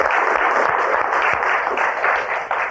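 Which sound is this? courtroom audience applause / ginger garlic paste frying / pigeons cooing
courtroom audience applause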